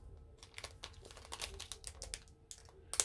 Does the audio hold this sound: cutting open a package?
yes